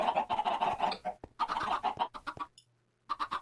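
Chickens just spawned in a modded Minecraft world cluck in short, repeated bursts, fairly close and loud, with a brief lull near the end before a few more clucks.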